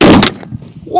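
A 20mm Lahti anti-tank rifle fires a single shot at a whisky barrel outdoors, a loud booming blast right at the start that quickly decays into a low rumbling echo.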